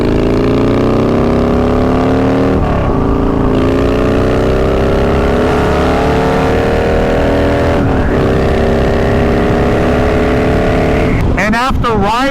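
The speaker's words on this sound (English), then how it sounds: "One of the best twin cam Harleys I've ever ridden or owned." A Harley-Davidson twin cam motorcycle engine runs steadily and loud, its low throbbing drone rising slowly in pitch over several seconds, with a brief dip near the end as the revs change.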